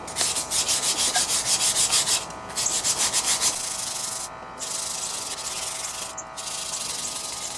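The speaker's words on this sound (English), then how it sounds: "let's sand all this crap off of there. Get all the rust off we can" Rust being sanded off the stuck drive disc of a Snapper Ninja lawn mower, a steady close rasping scrub in rhythmic strokes, briefly pausing a few times before resuming.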